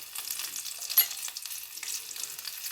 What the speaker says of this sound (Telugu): ఆయిల్ పోసుకొనేసి వేడైన తర్వాతనే ఎల్లిపాయలు వేసేసుకోండి.